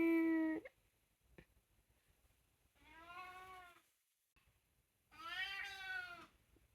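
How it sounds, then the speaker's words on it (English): A grey cat meows three times, long harmonic cries separated by quiet gaps, the last the loudest and most drawn out. "Here is some weird sounds that Gravy makes"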